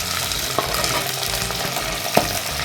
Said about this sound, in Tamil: கருவேப்பிலை போட்டுக்கலாம். வதக்கிட்டு சின்ன வெங்காயம் சேர்த்துக்கலாம்.